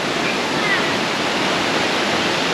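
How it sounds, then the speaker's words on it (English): A waterfall on Koh Samui pours as a loud, constant roar of rushing water, close by and unbroken, with children playing in it. "there's some children there playing in the waterfall"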